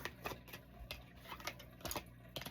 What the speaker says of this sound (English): We'll get one last shuffle.